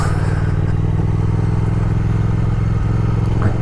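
Triumph Thruxton RS motorcycle ridden slowly on cold ground with brand-new tyres, its engine a steady loud, close rumble throughout with a brief clatter near the end.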